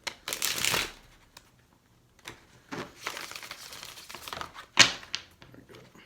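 Tarot cards being shuffled by hand in a quick, crisp riffle that opens loud, then a run of softer shuffling and flicking, with one sharp snap of the deck near the end and no voice.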